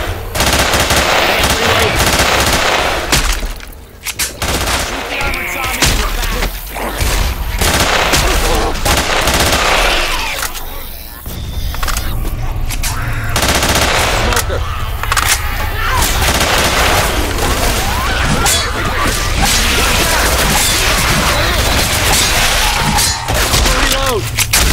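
Dense, continuous gunfire from a Left 4 Dead 2 online match in advanced mode, with rapid automatic bursts and heavy Magnum pistol shots pounding almost without pause for the whole stretch, loud and close, with shouted voices buried in the mix.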